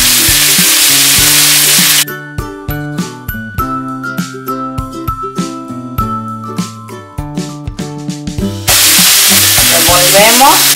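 Garlic, onion and tomato with salt sizzle loudly in a pan, then a spoon stirs them with rhythmic metallic scraping and clinks before the steady frying hiss returns.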